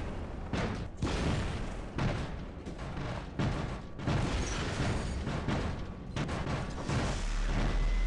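Energy shotguns firing in the War Robots video game, heavy booming blasts repeating in rapid bursts with brief gaps, loud and close over a constant mechanical battle din.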